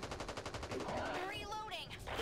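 Rapid automatic gunfire in the zombie shooter Back 4 Blood, a steady rattling burst up close with game effects and faint voices mixed in.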